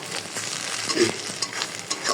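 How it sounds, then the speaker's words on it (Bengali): Onions sizzle in hot oil in a pan while being stirred, a steady close frying hiss with light scraping, cooked before spices for a raw jackfruit dish. "হালকা করে পেঁয়াজটা একটু ভেজে যখন হালকা অল্প একটু ভাজা হয়"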